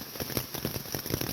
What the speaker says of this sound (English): And it's still raining really good right now.